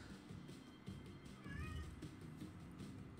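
A short cat meow rings out as a sound effect during a competitive digital card game match, one brief call over a steady busy background of game noise.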